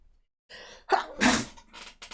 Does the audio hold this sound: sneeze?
yes